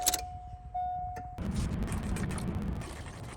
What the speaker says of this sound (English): I'm gonna go in with my key and just jimmy it around in there until I get fuel to come out here.